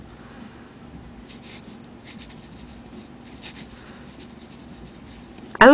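A Jinhao fountain pen filled with dark Diamine Grape ink, laying down a heavy wet line on smooth Arc notebook paper, makes soft, faint scratching strokes throughout, with a sudden loud knock at the very end.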